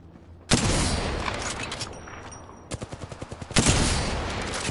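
Gunfire in Apex Legends: sharp loud bursts of automatic fire, a long sustained spray, then a rhythmic run of separate shots, then another heavy burst, with a thin electronic tone in the middle.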